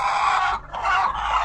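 Decaled white chickens on a small mini farm, a few close, loud clucking calls in quick succession with short pauses between.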